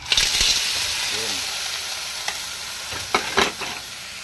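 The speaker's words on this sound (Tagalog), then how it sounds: "Haluin natin, ano, para yung ating laka ay maluto ng maayos" Laing with taro leaves simmering in coconut milk in a pan, stirred with soft scraping and light bubbling, a steady sizzle throughout and a couple of sharper clinks of the spoon near the end.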